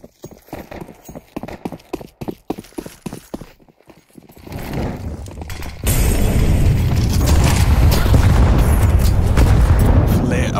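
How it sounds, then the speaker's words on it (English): Barrage of grenade explosions in Counter-Strike 2 on the Inferno map: rapid clattering and popping gives way to a loud, sustained roar of close blasts filling the second half. "A barrage of nades puts him on."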